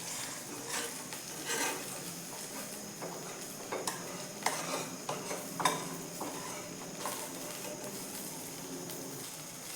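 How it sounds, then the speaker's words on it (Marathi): A high-protein pancake sizzles steadily as it fries in a little oil in a pan. Scraping and clinking of a utensil against the pan break in several times near the middle, and no one speaks. "आता आपण थोडंसं तेल टाकून घेऊयात साईड मग कडेने आणि पलटी करून घेऊयात।"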